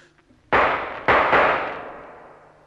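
Three sharp gunshots shooting open a lock in a radio play: one loud crack, then two more close together about half a second later, each ringing out and decaying in a roomy tail.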